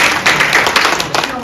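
Audience at a political event in Daegu bursts into brief, dense clapping, a close, steady wash of applause lasting under two seconds.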